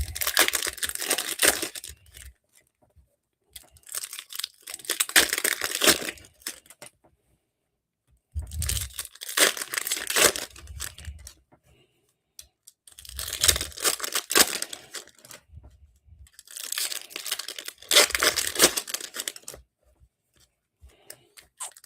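Trading card hobby packs being ripped open one after another, six bursts of close crinkling foil wrapper tearing separated by short quiet pauses.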